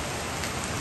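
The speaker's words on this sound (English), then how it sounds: "it's raining very hard now" Heavy rain falls hard in a dense, continuous hiss of drops striking surfaces, steady and loud with no voices.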